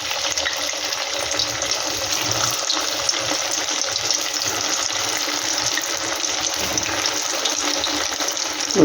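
Sago pakoras fry in hot oil with a steady, even hiss and fine crackle that runs unbroken at moderate level, no voices over it.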